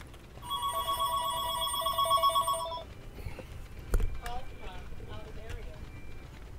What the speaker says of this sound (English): Uh-oh, I got me a phone call.